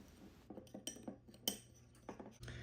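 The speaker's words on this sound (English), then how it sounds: "And then just give it all a stir." A spoon stirs a dry seasoning mix of thyme, black pepper and salt in a bowl, giving quiet scattered clinks and scrapes against the bowl, close and faint with no speech.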